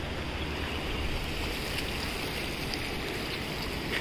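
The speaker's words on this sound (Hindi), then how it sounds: "पानी की आवाज़ आ रही है आप लोग को?" Steady broadband rush of flowing water at an outdoor location in Uttarakhand near Dehradun, continuous and fairly close, recorded on a phone with no voices.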